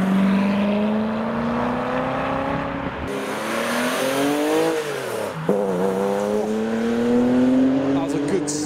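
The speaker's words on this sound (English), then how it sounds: "That was a good sounding shift. And some Aussie power from the Monaro." Holden Monaro engine revving hard, rising in pitch and then dropping through a gear shift before climbing again, loud and close, leaving a car show, with a voice talking over it.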